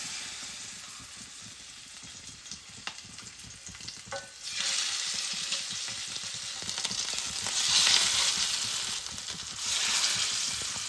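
Masala-coated fish fry together on a large flat tava, a soft sizzle that swells into loud, hissing bursts of spitting oil in waves.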